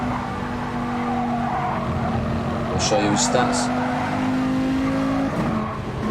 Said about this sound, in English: We'll jump on board with him so we can hear the car.